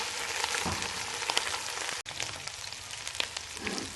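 Garlic and crushed green chili frying in a pan for sarson ka saag, giving a steady, close crackling sizzle with small pops and one brief momentary drop near the middle.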